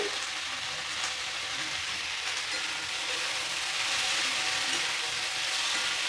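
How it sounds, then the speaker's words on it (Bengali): Shredded cabbage with carrot, salt and turmeric powder frying in a pan, a steady, even sizzle with faint scraping of stirring running unbroken and close throughout, no voices. "সবজিটা একটু ভেজে নেব"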